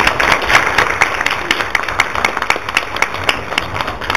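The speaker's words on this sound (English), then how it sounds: "Please be warm. Welcome to Professor Deflem with applause." Audience in a university lecture hall applauding to welcome a visiting professor, moderately loud clapping with distinct individual claps standing out in a steady rhythm.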